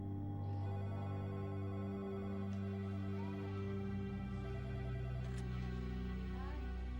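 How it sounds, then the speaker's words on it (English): A telephone rings over a low, steady musical drone, its repeated tones sounding moderately clear under the background bed throughout. "Her worried parents call Karen's former in-laws, Jeanette and Michael Slover."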